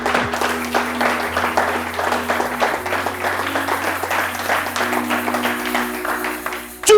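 A church congregation applauding to acclaim the Lord, dense steady clapping from a crowd that fills the room throughout, with a sustained musical tone held underneath.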